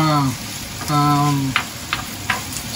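Boiled spare ribs stirred in a hot, oily pan, sizzling and frying loudly and close, with sharp scraping strokes of the spatula toward the end; a voice speaks briefly over the first part.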